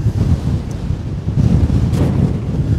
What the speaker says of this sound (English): It's a bit windy, so I don't know if you'll get that noise.